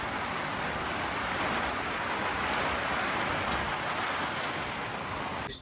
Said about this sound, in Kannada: ಅಷ್ಟು ಜೋ ಗಾಳಿ ಮಳೆ ಬರ್ತಾ ಉಂಟು